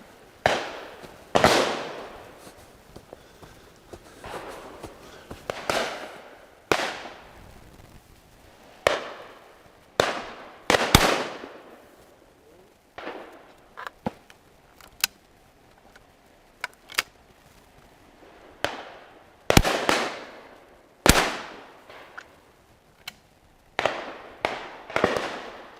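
Shotguns fire at a game shoot on Leighton Long Mountain, sharp loud reports ringing out one after another at irregular intervals, some near and some farther off, each trailing a brief echo across open ground.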